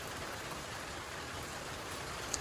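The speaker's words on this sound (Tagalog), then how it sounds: "Mira, maligo ka sa ulan?" Rain falling steadily outdoors, a dense continuous hiss of drops on surfaces with even loudness throughout and no voices.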